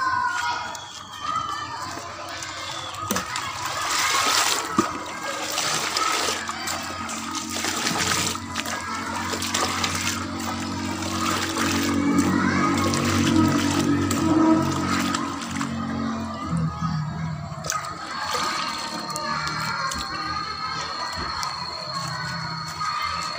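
Water is drawn and collected for mixing organic fertilizer, splashing and trickling continuously under intermittent talk.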